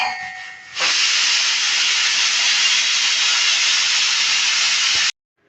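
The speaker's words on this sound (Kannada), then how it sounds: "ಈಗ 1 ವಿಸಿಲ್ ಕೂಗಿಸಿಟ್ಟಿದ್ದೀನಿ" A pressure cooker of tender agase greens lets out one loud, steady steam whistle that starts abruptly after a soft moment, holds a continuous rushing hiss for about four seconds, then cuts off sharply into silence.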